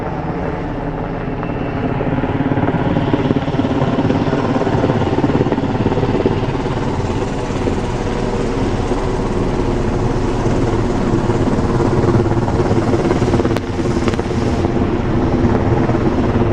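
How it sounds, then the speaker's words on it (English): A Black Hawk helicopter hovering close overhead near trees, its rotor wash producing a loud, steady roar and thudding rotor drone with heavy wind buffeting throughout. "Lots of rotor wash from this Blackhawk."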